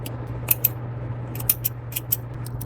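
Scissors snip through yarn while finishing an amigurumi bunny, giving a series of sharp, close metallic clicks spaced irregularly over a steady low hum, with no talking.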